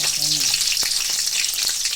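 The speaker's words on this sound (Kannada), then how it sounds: "ಬಾಣಲಿಗೆ ಸ್ವಲ್ಪ ಎಣ್ಣೆ, ಹಸಿಮೆಣಸಿನ್ಕಾಯಿ ಹುರಿದು ತೆಗಿಬೇಕು" Green chillies frying in a little oil in a pan, a steady close crackling sizzle with a few brief scraping stirs, no voices.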